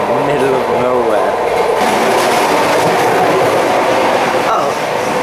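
A passenger train runs on its rails, a loud continuous rumble with a rhythmic clatter heard from inside the carriage, and a voice talks over it.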